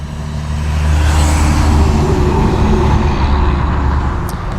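Steady, loud road traffic noise with a low rumble of passing vehicles fills the background throughout, without voices.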